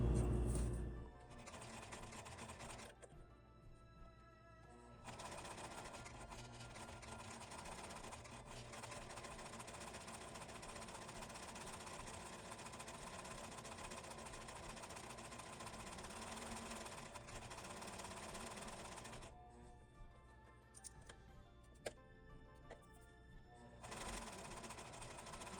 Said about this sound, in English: you're going to top stitch all around it.